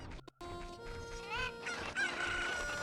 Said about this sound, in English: I must save the chickens.